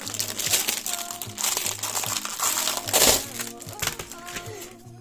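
Plastic packaging around silicone moulds crinkles and crackles up close in continuous handling, with one sharper crunch midway, under someone speaking.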